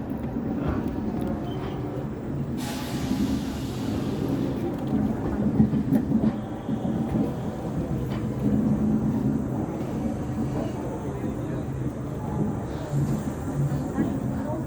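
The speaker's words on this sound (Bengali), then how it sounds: "খুবই স্লো করে বেরোচ্ছে ট্রেনটি।" A brand-new Amrit Bharat Express pulling slowly out of the station at Asansol, a low, steady rumble with faint clatter, while people talk nearby throughout.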